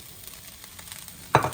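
Chicken gizzards frying in a pan with onion, pepper and coriander being added: a low steady sizzle, then a sudden loud burst of sizzling near the end as the ingredients hit the pan.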